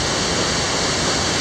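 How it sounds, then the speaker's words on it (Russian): The Sukhoi waterfall in Crimea roars as a dense, continuous rush of falling water, loud and steady throughout, with no voices. "Шумит водопад."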